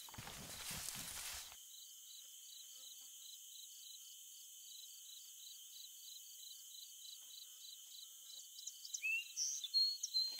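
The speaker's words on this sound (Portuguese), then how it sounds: "Tô escutando as moscas aqui." Flies buzz in the DayZ video game as a steady, thin, high-pitched drone running alone for several seconds after a brief burst of noise, with faint shuffling steps toward the end.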